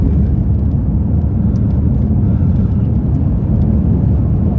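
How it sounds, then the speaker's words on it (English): Road noise fills the inside of a moving car as a steady, loud, low rumble with a soft whir above it, continuous and without talking. "The road noise is not too much."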